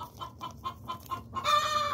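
A broody hen clucks in a steady series of short notes, then breaks into a longer, drawn-out cackle, close and moderately loud.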